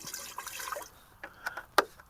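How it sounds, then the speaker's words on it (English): Water goes into a cooking pot being set up for distilling, heard as a short splashing pour and then a few scattered drips and clinks close by, with no voices. "we're going to add some water to our fancy pot"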